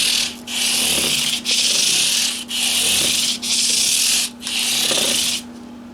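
Steady rhythmic hand sanding of a 1991 PRS Custom 24 guitar with 400 grit P grade free-cut StewMac sandpaper, five or six close, bright back-and-forth strokes with brief pauses between passes.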